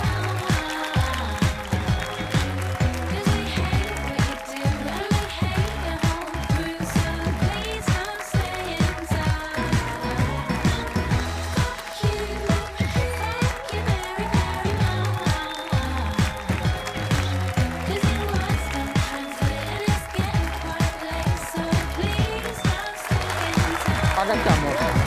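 A studio audience applauds in rhythmic, rapid clapping that runs continuously, mixed with music and a presenter's voice speaking over it the whole time.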